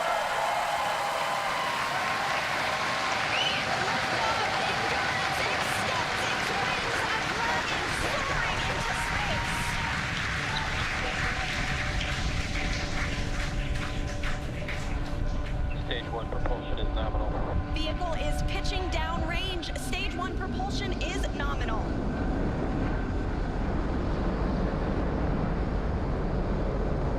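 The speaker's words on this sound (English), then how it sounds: "Ignition. Engines full power. And liftoff." A Falcon 9 rocket lifts off carrying the Crew-5 astronauts aboard Dragon, with its engines at full power: a broad, continuous rumbling roar, rising and steady, with a commentator talking over it.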